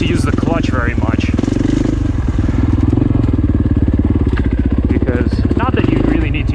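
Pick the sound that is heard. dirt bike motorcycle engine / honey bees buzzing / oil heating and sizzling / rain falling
dirt bike motorcycle engine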